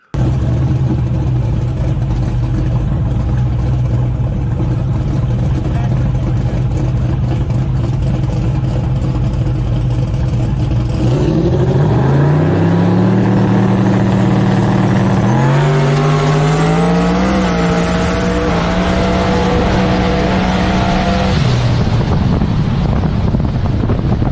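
Race cars at a motorsports event crossing the finish line, with a loud, continuous engine drone that rises and shifts pitch as cars pass, heavy wind buffeting on the microphone, and no voices.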